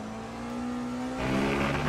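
Le Mans Ultimate hypercar engine revving loudly and steadily in the racing sim, a sustained harmonic drone that climbs in pitch and grows louder partway through as the car accelerates.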